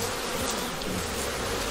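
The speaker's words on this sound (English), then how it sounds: "So we'll shake the bees off of this and put this to the side." Honey bees swarm in a loud, steady, close buzz around a capped hive frame during hive inspection, with no talk over the continuous drone.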